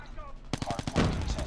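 Rapid gunfire from a wall-bang shot in a competitive video game match bursts in suddenly as a close, loud string of shots after a quieter opening, with a voice talking underneath.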